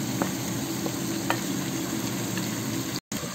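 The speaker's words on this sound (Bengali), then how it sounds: "সবজিগুলো পেঁয়াজের সাথে ভাজবো।" Vegetables including beans, capsicum and chayote frying with onions in a pan for vegetable khichuri, a dense steady close sizzle with a few light stirring taps and a brief dropout near the end, no voices.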